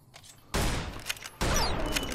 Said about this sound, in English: that was Z shooting right there